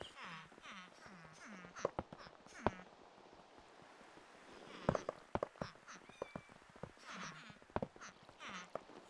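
Cats meow repeatedly in a Minecraft iron farm, a video game scene. Short mewing calls repeat, set among sharp clicks and block-breaking taps at low volume.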